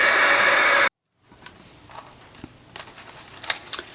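A hair dryer blows loud and steady on a craft project, then cuts off abruptly, leaving faint crinkling and handling noises close by.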